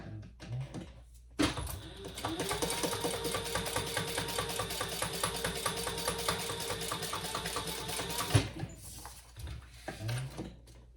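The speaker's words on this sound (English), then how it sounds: "we're gonna top stitch on this folded side" A sewing machine top stitching along the folded edge of a fabric trifold men's wallet, a steady rapid mechanical whir lasting several seconds after a short pause, close and clear with no talk.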